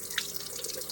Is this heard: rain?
no